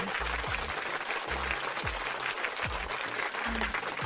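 Applause from a live stream audience plays under a steady low musical thump, a dense wash of clapping throughout.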